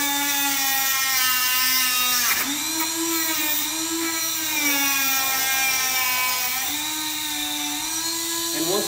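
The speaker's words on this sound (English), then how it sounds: "I would cut it with a Dremel tool, okay?" A Dremel rotary tool whines steadily as it cuts through a motorcycle shock adjuster cable, a loud high-pitched drone with a brief dip in pitch partway through as the cutting load changes.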